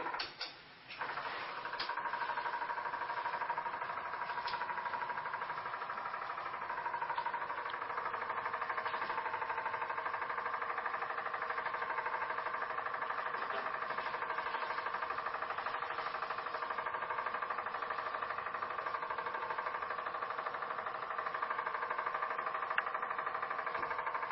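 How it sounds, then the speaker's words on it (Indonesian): An automatic egg incubator's drive motor runs with a steady, continuous mechanical whir and faint hum, holding an even level throughout with no talking. "ini motor penggerak sedang aktif"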